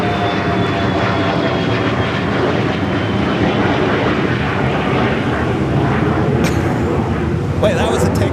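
Airliner taking off at San Francisco International Airport, a loud, steady engine roar that holds throughout, with voices talking over it.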